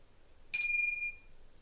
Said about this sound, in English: sounds from Tibetan bowl, or from Tingsa bell, which just starts with a very high amplitude and then goes on damping